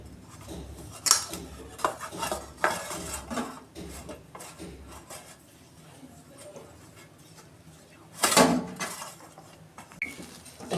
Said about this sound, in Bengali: এটা আমি নেড়ে নেড়ে পুরো শুকনো করে নেবো একদম।